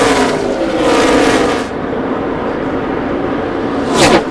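NASCAR Nextel Cup stock cars racing for the lead at Fontana in 2006 roar steadily at full throttle, engine drone filling the air, with a sharp near pass swelling loudly near the end.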